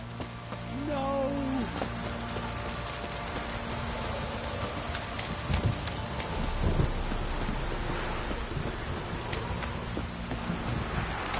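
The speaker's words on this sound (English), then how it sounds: "This downpour's a bastard, it is." Heavy rain pours steadily in The Witcher 3, a dense hiss of a downpour with low rumbles of thunder, continuous throughout with no talking.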